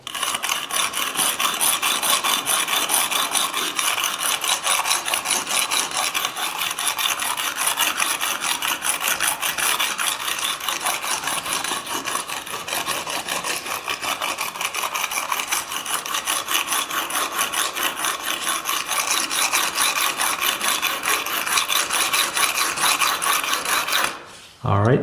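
Sharpening a QAD swept blade: a continuous rapid rasping, filing stroke repeating in a fast steady rhythm, close and loud, running almost without pause before stopping abruptly at the end.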